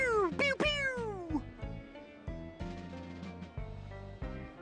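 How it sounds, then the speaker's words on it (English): Cat meowing in the video game Thimbleweed Park, several loud, close meows in quick succession followed by fainter mewing and game sounds, with no talk. "Shut up, Gaylord Cat"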